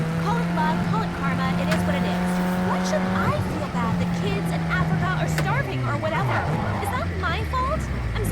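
Police cars drive in a video game, their engines droning and revving over each other with swooping pitch changes and tire noise, while a voice talks over the game sound throughout.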